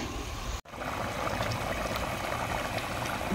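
Chicken and potato curry with green chilli and raw onion simmers in a covered pot, a soft steady bubbling and watery hiss, close and quiet, interrupted by a brief gap early on.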